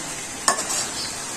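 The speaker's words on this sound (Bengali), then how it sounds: "গরু গোস্তটা এটা হচ্ছে কষা নিচ্ছে আম্মু" Beef is braised in a pan, a loud steady sizzle broken by one sharp scrape of a stirring spoon partway through, close and with no voices.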